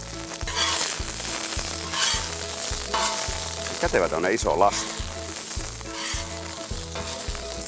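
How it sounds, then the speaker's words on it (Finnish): Potatoes frying in oil on a Muurikka grill pan outdoors, a loud, steady sizzle and crackle with rhythmic scraping and stirring, while a person talks over it. "Ruoka tirisee pannulla."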